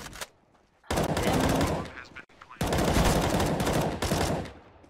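AK rifle fire in a competitive esports video game match comes in two long, loud automatic bursts separated by a short pause, with a rapid rattling cadence.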